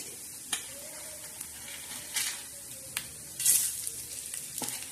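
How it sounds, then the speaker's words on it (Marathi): Whole spices crackling as they roast in a pan on low gas, with sharp scattered pops and brief sizzling bursts over a quiet background, close by. "हे बघा, उडायला लागला तो तडा असा मस्त असा हलवून घ्यायचं"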